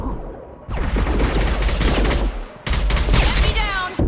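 Gunfire in the sci-fi shooter Mass Effect 2 on PC: rapid, loud volleys of automatic weapon fire crackle in two sustained bursts, close and intense, with combat effects and no talk audible.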